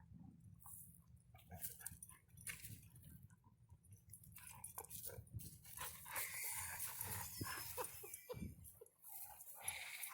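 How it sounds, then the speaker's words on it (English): A dog close by on a Gulf of Mexico beach, panting, chewing and giving soft whimpers in a low, busy stream of sound with no talk. "There's also a ton of dogs here, so Tigger has been loving it."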